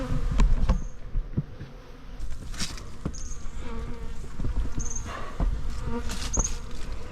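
Steady insect buzzing fills the air, with several buzzes passing close and loud among scattered clicks and rustling outdoors.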